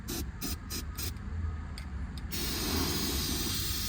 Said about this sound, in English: spray paint it, because it will rust